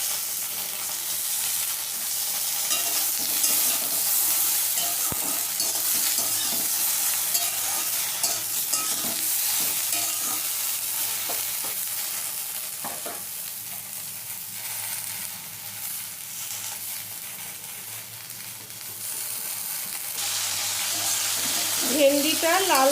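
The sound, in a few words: okra frying and being stirred in a pan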